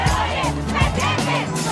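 Crowd cheering and shouting for Pope John Paul II during his visit to Cuba, a loud, dense burst of massed voices and applause heard close and continuous.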